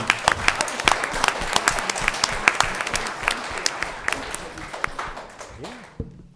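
Applause in a room at a county board of commissioners meeting, with individual claps standing out sharply against the wash of clapping, then tapering off at the end while voices talk underneath.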